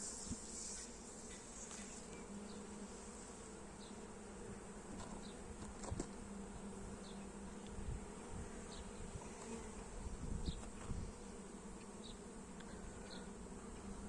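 Honey bees buzz steadily around an open hive during an inspection at a Burdur apiary, a dense continuous drone with individual bees passing close now and then.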